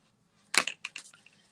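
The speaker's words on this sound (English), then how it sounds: "Let me shuffle these cards" A deck of question cards being shuffled, a brief burst of crisp papery riffling and snapping followed by a few softer flicks, close and fairly quiet.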